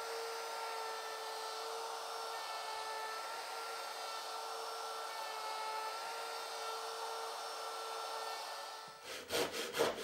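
A power tool steadily cutting away wood from the back of a one-piece guitar's neck and headstock, giving a continuous high whine with a rough grinding edge that ends in a few clunking knocks.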